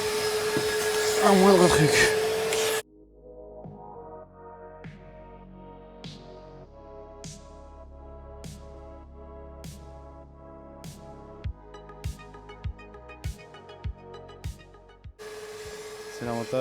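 A loud vacuum cleaner with a flexible accessory cleans a car interior. It roars close up at the start, drops out for a long quieter stretch with light ticking and brief speech, then returns near the end.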